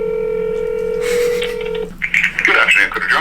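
Telephone call, a steady electronic tone that holds for a couple of seconds and then cuts off, followed by a burst of noisy line sound and muffled chatter over the phone.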